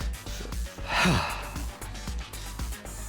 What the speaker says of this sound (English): Gaku started breathing heavily as he shut me down.